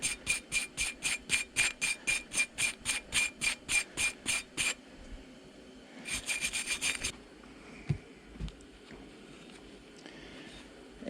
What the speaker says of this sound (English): We're going to knock some of the surface rust off of this.